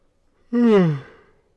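A single long yawn, a voiced drawn-out exhale rising then sliding down in pitch, close and clear, lasting about a second before trailing off into quiet.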